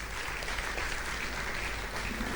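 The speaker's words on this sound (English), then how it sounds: "please let's give Nana Asantewa a round of applause" Steady, even crowd applause at a live-streamed event as Nana Asantewa comes up to present, moderately distant and unbroken throughout.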